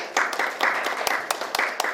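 A short burst of applause from a crowd, scattered claps rising and settling over a couple of seconds, moderately loud.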